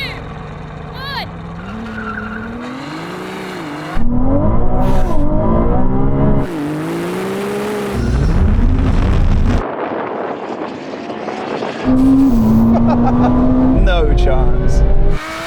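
Ferrari 296 GTB, SF90 and 812 Superfast launching side by side in a drag race, loud engines rising through gears with shifts and surging revs, heavy wind buffeting, and a brief spoken remark.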